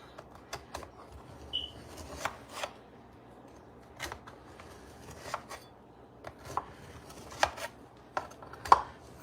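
A knife cutting homemade cornbread into squares on a board, giving a series of short, dry chopping taps at an uneven pace, close but fairly quiet, with no voices.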